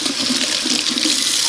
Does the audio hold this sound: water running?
yes